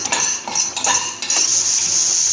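Garlic tempering in hot oil in a pan, with sharp metallic clinks of a utensil against the pan over a steady bright sizzle; no talking.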